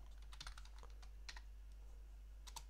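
Keys on a computer keyboard are tapped in short, scattered bursts of crisp clicks, close and fairly quiet over a low steady hum, with no talking.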